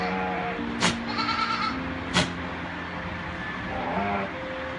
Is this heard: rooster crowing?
no